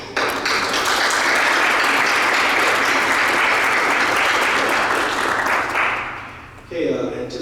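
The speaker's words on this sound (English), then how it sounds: "I want to give actually you and the MTUs a round of applause" A roomful of people at an Illinois Law Enforcement Training and Standards Board meeting gives Kelly and the MTUs a loud, dense round of applause, which holds steady for about six seconds and then quickly tapers off.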